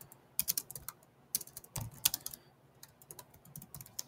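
Quick, light keystrokes clatter on a computer keyboard, close and quiet, coming in uneven bursts with short pauses, a little heavier in the middle.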